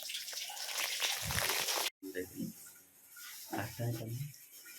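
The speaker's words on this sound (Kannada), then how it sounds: "ಆಫ್ ಮಾಡಿ ನೀರು." A kitchen tap runs in a steady close gush for about two seconds, then cuts off abruptly, and voices talk over faint room noise afterward.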